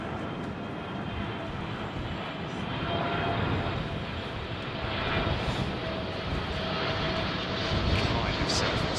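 A Singapore Airlines Boeing 747 freighter on approach and landing, its jet engines a broad, steady roar at moderate distance that swells slightly over time, with people talking over it.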